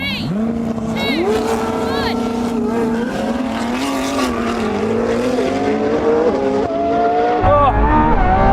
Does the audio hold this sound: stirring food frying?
no